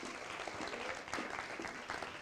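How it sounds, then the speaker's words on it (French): Audience applause after a talk at a cultural event, a steady dense patter of many hands clapping at moderate volume throughout, with a faint murmur of voices underneath. "je crois qu'on peut l'applaudir"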